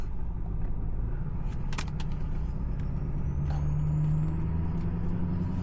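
A diesel truck engine runs at 20% throttle with a steady low rumble and a faint rising whine.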